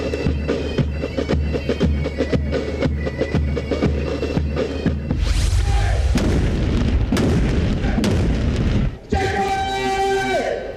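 Artillery guns fire a ceremonial salute at a Defence Day event in Peshawar, heavy booming blasts rolling out over an open ground, loud and repeated with long echoing tails.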